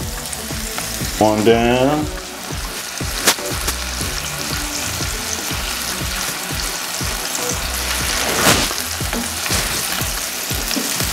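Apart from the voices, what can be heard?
buttered burger bun sizzling on the grill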